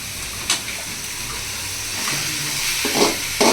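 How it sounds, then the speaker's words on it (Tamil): Chicken gravy sautéing in a pan as a home cook stirs it, with a steady sizzle, soft stirring scrapes and a few brief clinks over a continuous frying hiss. "இவர் தான் இப்போ வதக்க போகிறாரு."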